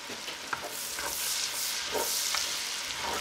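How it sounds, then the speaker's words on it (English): Diced onion sautéing in a soup pot, a dense even hiss of frying with light periodic stirring strokes, close and steady throughout. "Saute that up a little bit. Just until it's tender."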